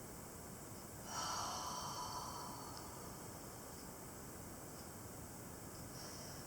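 A slow yoga breath during a full moon salute practice, one long soft airy inhale or exhale swelling and then fading over a steady hiss of room noise, with no talk.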